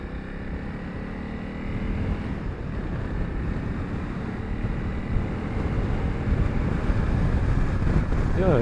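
Steady, loud wind rush roars across the microphone while riding a Honda CRF 300 Rally motorcycle on a country road into a headwind, a continuous low buffeting that builds slightly toward the end.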